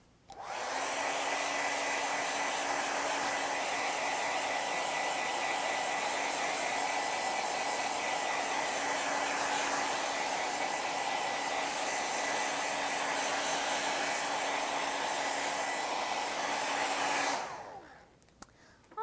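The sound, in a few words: hair dryer blowing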